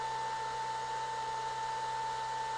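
Steady cooling fan of a power supply running beside an iCharger S6 RC battery charger: a continuous, even whir with a constant tone, unbroken and close, with no voices.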